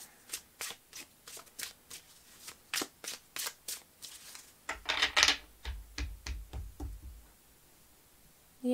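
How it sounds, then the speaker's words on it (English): Tarot cards shuffled by hand in a steady rhythm of papery riffles and flicks, about twenty close bursts with a denser, louder shuffle midway, no talking. "So let's see another layer of cards."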